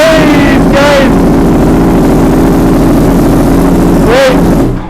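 Rebuilt 2023 Yamaha R1 motorcycle engine running loud and close, a raspy steady idle broken by two sharp revs near the start and end, with shouting voices briefly over it.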